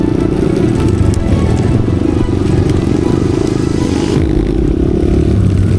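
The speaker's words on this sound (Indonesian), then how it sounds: "Kita cukup khawatir karena raungan suara knalpot yang cukup keras beresiko membuat sapi tidak nyaman" A motorcycle's loud exhaust roars steadily on a rural mountain road in the Bondowoso countryside, a continuous close engine drone that holds for the whole stretch.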